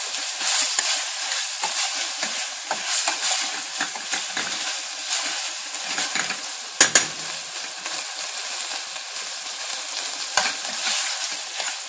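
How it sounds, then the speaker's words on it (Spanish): Bacon and sage fry and get stirred in a pan, a loud continuous crackling sizzle with brief utensil scrapes and a couple of sharper knocks, no talking. "Lo remuevo un poquito."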